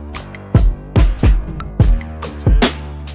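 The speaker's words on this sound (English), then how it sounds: "That way I have the same drum sound when I'm doing my transitions and it sound like this." Punchy electronic drums in a beat transition, a run of five heavy kick-and-snare hits with tonal ringing tails, spaced unevenly over about three seconds, loud and close with no voices.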